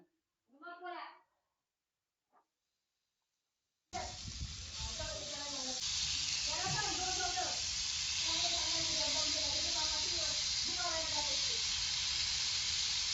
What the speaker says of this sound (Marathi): आता इथं आपले स्ट्रिप पण तयार झाले, ते आपण तव्यावर सोडूया.